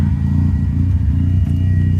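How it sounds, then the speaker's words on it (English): A Mazda RX7 rotary engine idles steadily, a low, even, throbbing rumble with a slightly choppy pulse, close and constant with no talk. "So, there's the idle."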